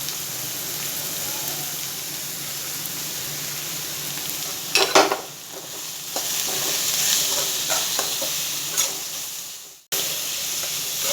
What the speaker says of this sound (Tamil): மிளகாய் போட்டு வதக்கிடலாம். அதுக்கப்புறம் கேப்சிகம் போட்டுடலாம். கேரட் போட்டுடலாம்.